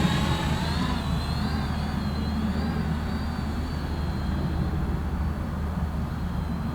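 A Fimi A3 drone in flight gives a steady, continuous whirring drone of spinning propellers with a thin high whine over a rumbling low hum, holding an even loudness throughout with no talking.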